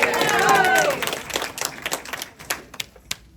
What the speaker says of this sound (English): we'll clap for her anyway